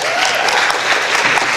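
Audience applause fills a hall, dense and steady clapping from a large crowd, loud and close throughout the short burst.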